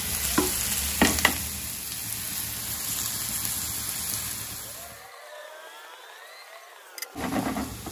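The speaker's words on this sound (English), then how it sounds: "we are going to fry the Bhindis till they are nice and crispy" Okra (bhindi) fries crisp in about two tablespoons of hot oil in a pan, giving a steady close sizzle with a few stirring knocks early on. The sizzle softens midway, then swells back with more clatter.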